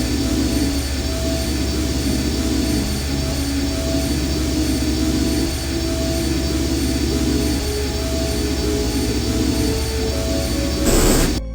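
A constant, loud, droning engine hum aboard an airship in the video game I Have No Mouth And I Must Scream, steady with a faint mechanical whine, ending with a brief louder swell.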